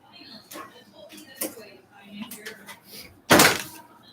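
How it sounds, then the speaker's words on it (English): A door is pushed shut in a home, one loud thud near the end, with fainter knocks and handling sounds before it and a voice talking nearby. "Let me shut the door real quick."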